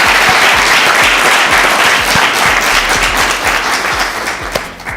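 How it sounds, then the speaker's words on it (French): A studio audience gives loud, sustained applause for a coach on a French broadcast, a dense wall of clapping that stays strong and tapers slightly at the end. "Applaudissements encore pour coach."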